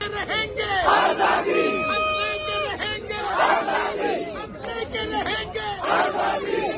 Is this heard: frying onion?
no